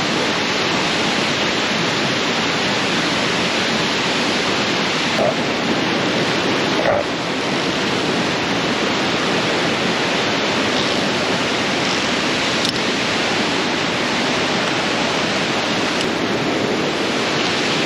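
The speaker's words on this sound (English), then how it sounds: "So much mist coming off the waterfall." A waterfall thunders with mist blowing off it, heard from a via ferrata climb at Kandersteg; a dense, steady roar of falling water fills everything, loud and unbroken, with no other sound standing out.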